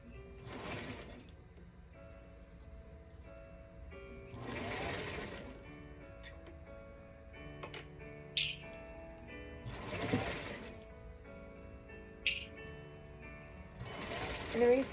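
A sewing machine stitches a pickle dish quilt block in short bursts, its rapid mechanical whirring starting and stopping several times with quiet handling noises between runs.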